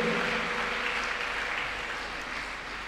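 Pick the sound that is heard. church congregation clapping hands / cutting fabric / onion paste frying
church congregation clapping hands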